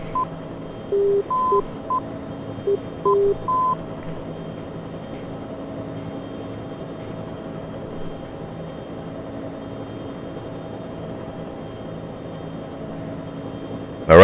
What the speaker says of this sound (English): you can also hear the Morse code for that station going on